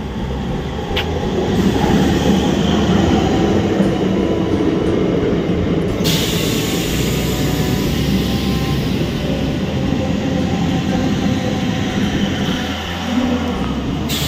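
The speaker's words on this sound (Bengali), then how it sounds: "এই লোকাল ট্রেন সচরাচর এই লাইনে দাঁড়ায় না" Local train on an Indian Railways line rolling past with a loud, continuous rumbling roar and a faint rhythmic clatter, close by and sustained throughout, with a brief brighter whoosh midway and no voices.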